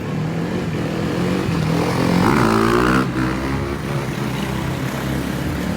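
Racing motorcycles at the Isle of Man TT roar close by, with one engine's pitch rising sharply as it accelerates away over a loud continuous engine drone.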